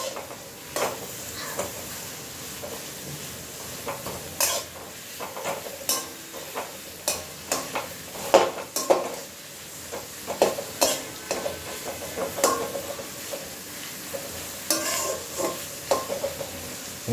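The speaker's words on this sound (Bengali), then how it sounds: "বন্ধুরা, পেঁয়াজগুলো একটু ফ্রাই করে নিতে হবে।" Sliced onions fry in ghee for Kashmiri chicken kanti, with a steady sizzle under repeated scrapes and clanks of a spoon stirring the pan, close and moderately loud, with no voices.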